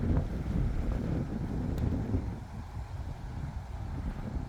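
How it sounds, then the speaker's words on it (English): Wind picks up along the river at the Wards Canyon access point, buffeting the microphone in loud, low gusts that swell early, ease slightly, then build again, with no voices. "Starting to get a little windy."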